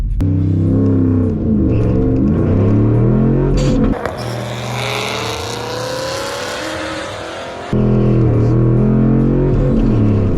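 A car in a refurb project accelerates hard through gear shifts, loud engine climbing in pitch, a brief rougher, lower passage in the middle, then pulling strongly again, close and sustained with no talking.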